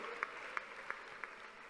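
A congregation at a prayer centre gathering claps in rhythm: four evenly spaced, faint handclaps over quiet background murmur.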